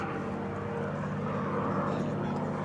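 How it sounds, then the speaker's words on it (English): A P-51 Mustang propeller fighter climbs out after takeoff from runway 27, its engine a steady loud drone throughout at moderate distance. "Very beautiful P-51 Mustang."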